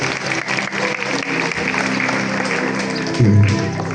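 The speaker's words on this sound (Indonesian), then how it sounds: "Oke, tepuk tangan." A school assembly crowd applauds, a steady patter of many hands clapping throughout, moderately loud, with a brief thump near the end.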